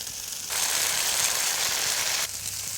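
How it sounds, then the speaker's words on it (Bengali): Spice paste with stone-ground cashew paste hits a hot pan and sizzles in a loud, dense hiss that starts abruptly, holds for under two seconds, then cuts back to a quieter background. "কাজু বাদামটা দিয়ে আরও 1 মিনিট মতো কষিয়ে নিলাম।"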